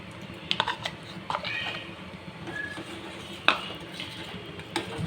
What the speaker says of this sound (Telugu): కస్టర్డ్ పౌడర్ వేస్తూ ఇది కలుపుతూ ఉండాలి